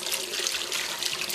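Steady, continuous rush of shower water running at a lodging during a rugged mountain trek, a close, even hiss with no pauses and no talking.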